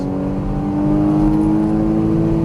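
Porsche Cayman GTS engine pulling hard on a racetrack, heard from inside the car as a loud, steady, rising drone that fills the whole stretch with no voices.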